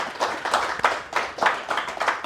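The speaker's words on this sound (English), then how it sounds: "So just give him a warm applause" Audience applause welcoming Marcus Tebogo Desando to the stage at a Studio ZAM conversation event, a moderately loud, steady wash of clapping in uneven swells over about two seconds.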